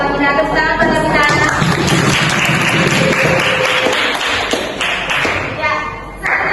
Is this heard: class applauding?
yes